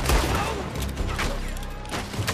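Enemy gunfire rattles in Red Dead Redemption 2, a close, dense burst of shots with booming impacts, mixed with in-game voices.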